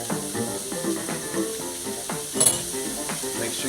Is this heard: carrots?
yes